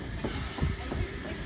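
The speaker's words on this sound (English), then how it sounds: "Gosford service, now departing platform 1." A brief burst of a Sydney Trains Gosford service departing a platform at Hawkesbury River: low rumbling with a few rhythmic wheel clacks on the rails, steady and fairly close.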